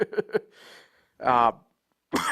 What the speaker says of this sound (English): I just can't shake this portion of the cough